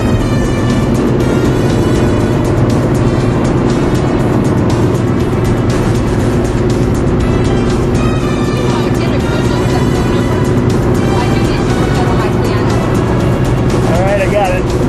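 Steady in-cabin engine drone of a Honda CRX Si on the road, a constant low hum with road noise throughout, while people talk over it.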